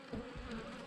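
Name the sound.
honey bees buzzing at a hive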